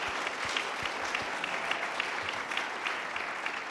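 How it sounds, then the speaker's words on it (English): An audience at a literary festival opening night applauds steadily, a dense, even patter of many hands clapping throughout. "a clap for the talent that's come from Western"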